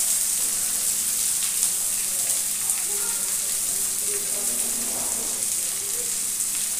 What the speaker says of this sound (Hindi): ये जो हमने ये प्याज काट करके रखा है इसे डाल के फ्राई